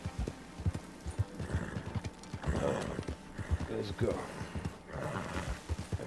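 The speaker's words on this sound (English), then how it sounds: "You see what I mean with these horses here?" Horses in the open-world western game Red Dead Redemption 2 clip-clop with steady galloping hoofbeats and give a few neighs and whinnies. Someone talks briefly over the close, busy hooves.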